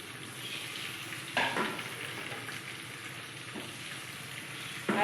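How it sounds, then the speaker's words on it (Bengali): Onions fry in a pan until reddish, a steady close sizzle broken by a few louder stirring scrapes, with no voices. "পেঁয়াজটাকে একটু লাল লাল করে ভেজে নেব।"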